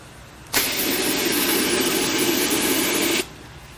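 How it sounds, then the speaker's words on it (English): A power washer blasts water into the rusty rocker panels of a Chevrolet Silverado 2500 truck. A loud, steady roaring spray starts abruptly, runs for about three seconds without a break, then cuts off sharply. "So first we're going to hit this power washer to see what comes out."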